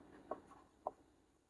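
Pen or marker strokes on a board or paper while writing out a math problem, two short quiet scratches in near silence.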